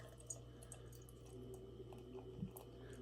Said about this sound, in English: let's go ahead and pour it up